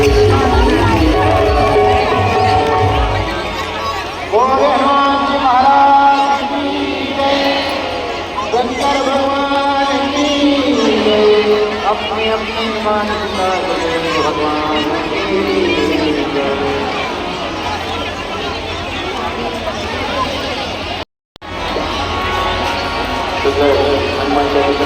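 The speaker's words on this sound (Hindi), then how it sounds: "भक्त अपने भजनों में झूमते हुए मस्त हैं।" Devotees at a Shiv Mahapuran Katha in Gharaunda, Karnal sing bhajans together and clap along, a steady crowd of voices filling a large pandal, with general hubbub and a brief dropout near the end.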